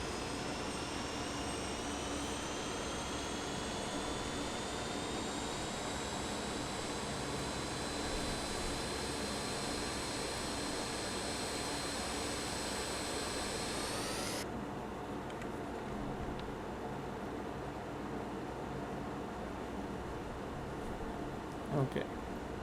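Turbofan engines of a BAe 146-100 airliner in a flight simulator run as a steady loud roar with rising high whine; the whine cuts off suddenly partway, leaving a lower continuous rumble.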